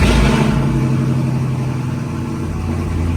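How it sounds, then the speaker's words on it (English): Cold start of a full bolt-on, E85-fueled car engine, a loud close rev at the start settling into a deep, rumbling, choppy idle that carries on steadily. "Let's give it a little cold start."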